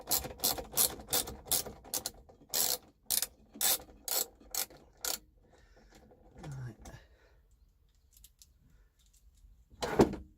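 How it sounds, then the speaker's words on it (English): Ratchet turning a screw during a swivel seat base installation in a VW T25, a rapid series of crisp ratcheting clicks in quick strokes, then quieter handling and a final louder clatter. "Let's put it into a ratchet."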